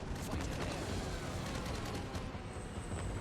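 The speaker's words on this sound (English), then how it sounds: "dodge the damn flak" Dense anti-aircraft flak from ships in the naval video game World of Warships crackles continuously, a steady barrage of rapid overlapping bursts heard at constant loudness.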